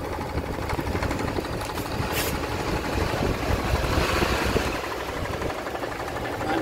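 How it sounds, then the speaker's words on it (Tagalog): A split-type air conditioner compressor running after a dual capacitor is converted to two separate capacitors, giving a steady, continuous mechanical hum and rattle at moderate level with no breaks. "Tapos yung compressor niya, umaandar na rin mga kabutingting."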